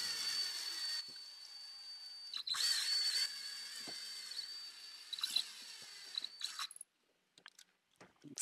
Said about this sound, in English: slowly spin the lead screw with your drill in a tightening motion